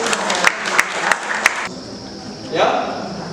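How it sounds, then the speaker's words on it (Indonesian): Hands clap together in a classroom, a few loud distinct claps over a steady bed of student chatter and noise, then the clapping stops. "Oke, tepuk tangan."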